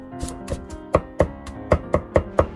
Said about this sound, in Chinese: 剥干净之后再把它剁成蒜末